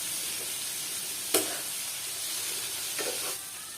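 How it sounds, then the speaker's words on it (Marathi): Vegetable curry with chopped tomatoes, made with black mung beans, being mixed with a spoon: a soft, continuous hiss with two brief scraping strokes, quiet throughout. "सगळी भाजी परत एकदा मस्त अशी मिक्स करून घेऊया चमच्याने"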